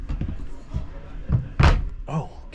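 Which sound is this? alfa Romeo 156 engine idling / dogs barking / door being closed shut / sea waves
door being closed shut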